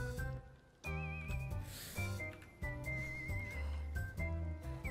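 A horse in a video game neighs in several bright, whinnying bursts with a shrill whistling quality, set against a dry desert game soundscape and fairly close.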